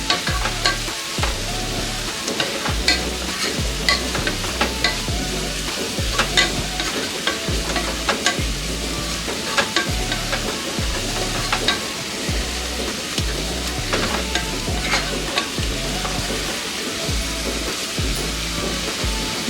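Chopped spring onion fries in oil with chilli powder and garam masala, a steady sizzle under a rhythmic, repeated scraping of a spoon stirring the mix around the pan throughout.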